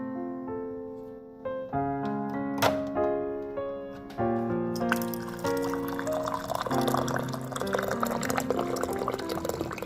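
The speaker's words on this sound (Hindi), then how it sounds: "तो कप मैंने ले लिया है, तो यहाँ से मुझे मिलेगा गर्म पानी। तो चलिए गर्म पानी लेते हैं।" Hot water from an office water dispenser filling a cup, a gurgling pour whose pitch climbs steadily as the cup fills, close and fairly quiet.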